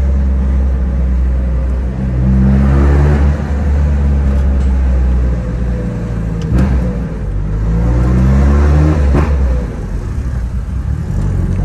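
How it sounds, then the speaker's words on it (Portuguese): A Ford Ranger 3.0 idles with the air conditioning on as its viscous fan clutch engages, a loud, steady low engine rumble with a broad fan roar that swells twice over the running motor. "ela com o ar ligado, ela ligou a viscosa, ela"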